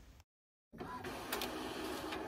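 Inkjet printer printing onto DTF film, a steady mechanical whir and buzz with rhythmic carriage passes after a short silent gap.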